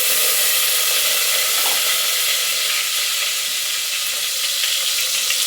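Ginger and green chili frying in a pan for a Mangalore-style fish curry give a loud, steady sizzle with bright hiss and no pauses, close up and with no talking.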